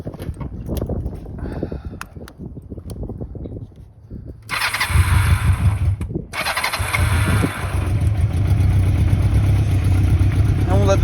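A motorcycle engine cranks and fires up after some handling noises, then settles into a steady, rumbling idle close by, dipping once briefly before running on evenly.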